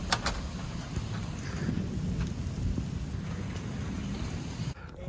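Hail and heavy rain pelting down during a severe thunderstorm in Edwardsville, Illinois, a steady dense wash of impacts with a few sharper cracks at the start, continuous and fairly loud before a brief dip near the end.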